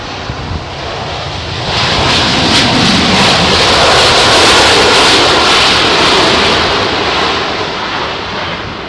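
An airliner takes off in strong wind at London Heathrow Airport, its engine roar swelling quickly from near silence into a loud, sustained broadband rumble that holds to the end.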